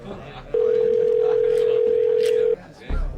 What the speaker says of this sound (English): I used my friend's phone to call mine. After 2 rings, someone answered.